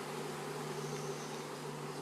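Honey bee swarm around a hive box, a steady low drone of many wings buzzing together at an even level, close and continuous with no talk.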